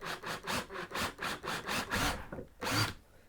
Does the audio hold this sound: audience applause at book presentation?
no